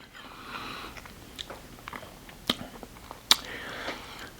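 Someone takes a bite of a keto cauliflower and ham casserole and chews close up, with soft mouth sounds and a couple of sharp clicks between quiet breathing.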